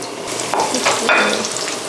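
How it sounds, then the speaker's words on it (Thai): Cream cheese and crab stick wontons deep frying in hot oil, giving a steady close sizzle and crackle throughout with small bursts of bubbling. "น้ำมันร้อนได้ทีแล้ว เราจะไปเออเราจะใส่ลงไปทอดแค่ แผ่นเกี๊ยวสุกนะคะ"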